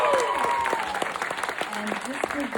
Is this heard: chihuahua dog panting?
no